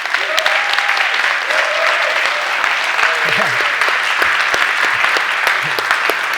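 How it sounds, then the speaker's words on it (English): An audience at a corporate banking tech demo applauds in a loud, steady burst of clapping, with scattered voices calling out over it. "another round of applause"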